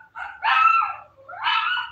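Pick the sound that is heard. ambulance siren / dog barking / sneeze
dog barking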